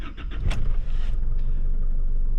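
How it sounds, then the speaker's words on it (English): An Isuzu D-Max pickup engine cranks with a few quick starter turns, then catches and settles into a steady, close, loud idle. "It starts up lovely, runs nice."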